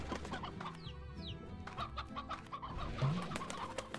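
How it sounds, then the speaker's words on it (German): Chickens cluck repeatedly and steadily in Slime Rancher, with a few higher bird-like chirps mixed in. "ich höre Hühner"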